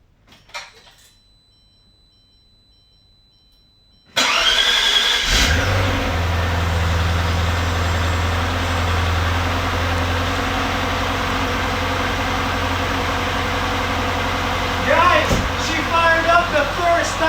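A Maserati 3200GT with a newly refitted starter motor cranks and fires up at once, then settles into a loud, steady idle. Near the end it gives a couple of quick revs, after quiet moments before the start.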